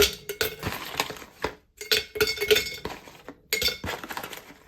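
Glass clinks and knocks as a glass jar of coffee capsules is handled and set down beside a coffee maker on a kitchen counter, a quick cluster of close, bright taps with short pauses between.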